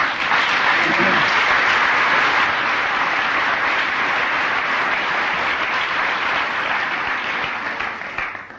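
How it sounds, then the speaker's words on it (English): Loud, sustained applause from a large audience at a 1992 AA and Al-Anon talk, with thick, even clapping that holds steady before tapering off at the end. "You're applauding AA and Alanon."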